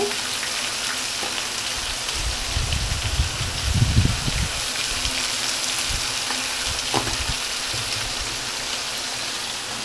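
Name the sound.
potato frying with salt and turmeric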